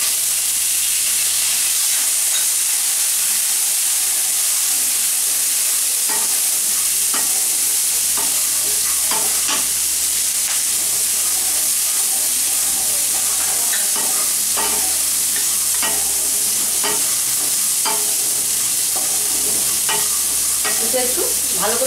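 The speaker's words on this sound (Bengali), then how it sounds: "আলুটা আমি একটু বেশ লাল লাল করে ভেজে নেব" Potatoes fry in oil in a pan with soaked chickpeas about to go in, a steady loud sizzle running throughout while a spoon scrapes and stirs in irregular clicks and scuffs.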